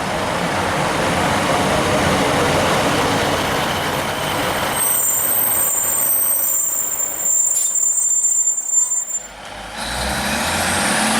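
A Class 156 diesel train bound for Carlisle rumbles loudly past, with a steady roar of wheels and engine, high metallic squeals from the rails, and a hiss of brakes as it slows.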